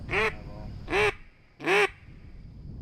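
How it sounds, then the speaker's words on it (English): Three loud duck quacks spaced about evenly apart, each a short nasal burst, with quiet background between them. "Call them ducks in right there."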